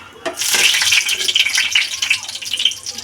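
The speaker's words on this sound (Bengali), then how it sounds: "তেল গরম হয়ে গেছে দেখতে পাচ্ছেন, এবার দিয়ে দেবো দারচিনি, এলাইচি, লং দিয়ে দেবো তেলের উপরে।" Whole cinnamon, cardamom and cloves drop into hot mustard oil, giving a loud burst of crackling, spitting sizzle that flares and fluctuates throughout.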